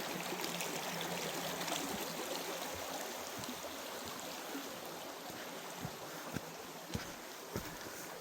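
Gheerulla Creek runs high after heavy rain, a steady broad rush of flowing water with a few small splashes and knocks near the end.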